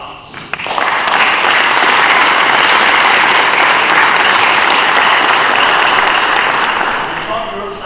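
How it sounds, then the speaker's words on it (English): An audience at a USCIRF press conference breaks into loud, sustained applause that swells quickly, holds steady for several seconds, then begins to fade, with no voices over it. "Please join me in giving them a round of applause."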